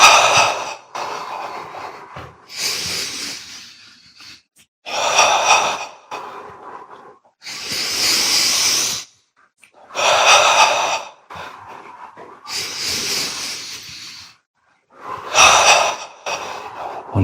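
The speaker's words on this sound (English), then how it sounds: "Notice his breath is getting longer because that's what happens." Slow, deep breaths during a guided breathing exercise, with long audible inhales and exhales alternating with pauses, close and loud.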